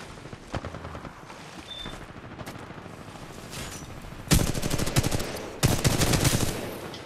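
Gunfire in the shooter game Titanfall 2: quieter scattered shots and game noise, then two loud, close bursts of rapid automatic fire, each lasting about a second.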